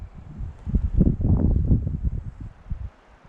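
Strong wind gusts through the taiga, a low buffeting roar that swells in the middle and fades toward the end, heard alone and close to the microphone.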